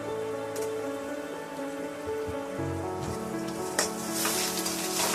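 A spoonful of ginger garlic paste hits browned onions in a pan for Indian chicken curry, giving a steady close crackling sizzle that stays even throughout, with a few sharper spits near the end.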